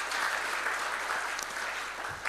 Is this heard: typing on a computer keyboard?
no